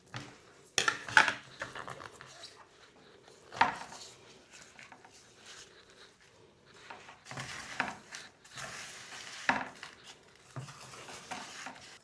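Utensils clink and scrape against a bowl as food for basturma is moved carefully, piece by piece, giving scattered close taps and scrapes over a quiet kitchen background.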